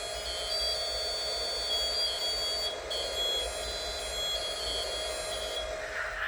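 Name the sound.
alarm buzzer playing the Thunderbirds theme on train elevator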